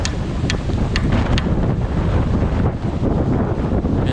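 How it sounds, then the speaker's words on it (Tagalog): Strong wind buffets the microphone in a constant roaring rush, with gusts rising and falling and no voices heard. "lakas ng hangin dito ngayon"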